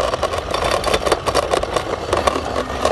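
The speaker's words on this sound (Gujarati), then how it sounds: "કાર આવી ગઈ યાર વચ્ચે" A car engine running close by near a school, a loud mid-pitched rumble that pulses and swells across the few seconds with no talk.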